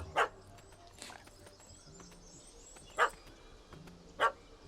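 A puppy barking in The Witcher 3: Wild Hunt, four sharp separate yaps spread across the stretch over low ambient game sound, fairly clear but moderate in level.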